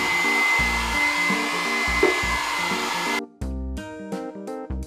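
A hair dryer is blown at a block of ice to melt it, producing a steady, loud whooshing roar that runs beneath rhythmic music, with the airflow dropping off partway through.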